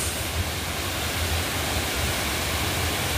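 Situbo Falls in Tampilisan, Zamboanga del Norte pours in a steady, dense roar of rushing water, close and loud throughout with no voices.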